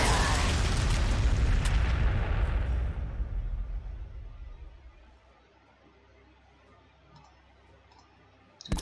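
Frag grenades blast in the Warhammer 40,000: Sanctus Reach strategy game, a loud crackling explosion with clicks that rumbles and fades out over several seconds, without talk.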